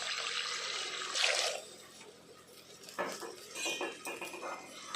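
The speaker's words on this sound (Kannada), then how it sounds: "ನೀರು ಹಾಕ್ಕೊಳ್ಳುವ." Water poured into a pan of golden-fried rice, a broad splashing rush with clinks of utensils and pan around it, close and moderately loud.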